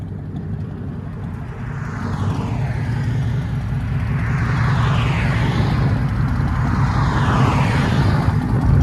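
A 2003 Chevy Silverado LT with true dual straight-pipe exhaust idles, giving a steady, loud, deep rumble that holds close and constant, with a slight swell partway through.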